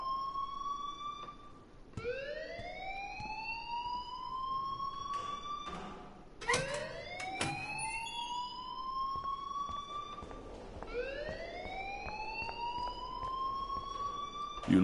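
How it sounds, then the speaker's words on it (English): School alarm in the video game Life is Strange, a rising electronic siren whoop that repeats about every four seconds, loud and alone without talk. "please turn off that alarm since that's your job"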